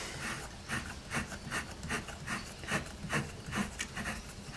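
A bolt on a Fisher and Paykel washing machine motor is wound off by hand, making a steady series of soft, close rubbing and scraping strokes in an even rhythm, with no talking.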